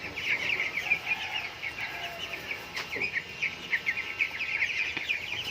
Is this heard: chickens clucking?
yes